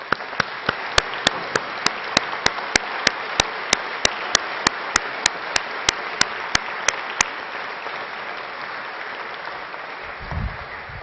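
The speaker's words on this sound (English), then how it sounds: "I think that deserves a round of applause." Sustained audience applause at a graduation ceremony honoring the Royal Navy's first female admiral, a steady dense wash of clapping lasting most of the stretch and gradually thinning toward the end, with a regular series of sharp clicks running over the first part.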